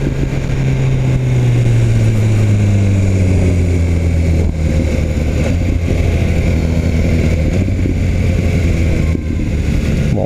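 BMW S1000 R motorcycle engine pulling hard under acceleration on a test ride, a loud continuous roar with rising pitch through a gear, steady wind and road noise throughout, no talk.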